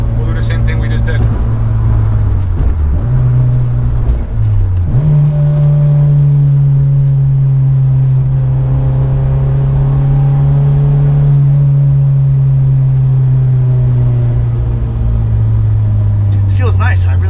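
An Acura RSX drives on a highway, its engine a loud steady drone heard from inside the cabin that drops and rises through a shift before settling into an even cruise, with people talking over it.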